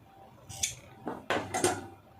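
Scissors snip through blouse fabric while the sleeve is cut out, giving three or four short, close crisp cuts in a quiet room.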